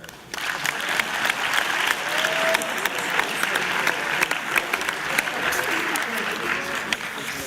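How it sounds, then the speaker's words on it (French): A large audience at an academic best-poster awards presentation applauds steadily, dense clapping sustained throughout with a few brighter claps standing out, with no voices over it. "Alors je crois qu'on peut encore les applaudir toutes et tous une dernière fois."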